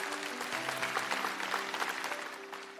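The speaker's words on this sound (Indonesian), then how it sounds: "Kasih tepuk tangan untuk Tuhan." Steady applause from a church congregation during a Sunday sermon, sustained clapping throughout with a faint tone lingering underneath.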